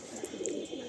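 A black male pigeon with golden eyes, kept in a loft, coos softly in low rolling murmurs, faint and steady against a hushed background with no talking.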